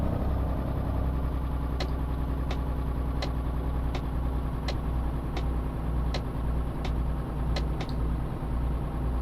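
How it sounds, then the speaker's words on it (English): A truck engine runs steadily while driving, with a deep continuous drone and a faint, regular ticking clatter repeating about every second throughout. "This clunky, you know, sound. It's completely different from all the other trucks that I've driven."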